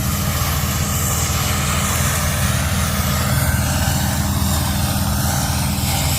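A loud, continuous mechanical roar of a combine harvester threshing barley, with a deep engine drone and a constant rushing, threshing rumble, no breaks or talk.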